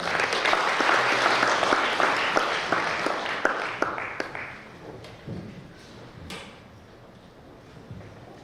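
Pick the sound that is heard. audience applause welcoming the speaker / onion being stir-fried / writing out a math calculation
audience applause welcoming the speaker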